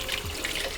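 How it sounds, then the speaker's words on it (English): Tap water runs in a short, steady stream while a home baker wets hands and a bench scraper before turning out sourdough dough, a close, hissing trickle without any talk. "Wet my hands, wet the bench scraper."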